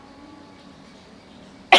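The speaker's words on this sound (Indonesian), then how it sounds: "Maaf ya, aku batuk." A single sharp cough bursts out at the very end after near silence, close and loud.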